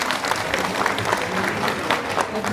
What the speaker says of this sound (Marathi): टाळ्या स्वागत करा सगळ्यांनी